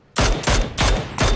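Four loud, close gunshots in PUBG ring out in a quick, steady rhythm, each a sharp crack with a brief tail, with no talking.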